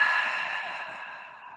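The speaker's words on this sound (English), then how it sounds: "Take a deep breath in, out through your mouth." A slow, deep exhale out through the mouth during a qigong breathing exercise, a soft airy breath close to the microphone that fades gradually over a second and a half.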